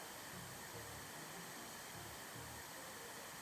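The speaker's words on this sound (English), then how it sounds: "Vacuuming up leaves and debris outside." A vacuum in House Flipper 2 sucks up leaves and debris outdoors with a steady, hissing roar, and low bursts pulse beneath it as the nozzle moves. Nobody speaks.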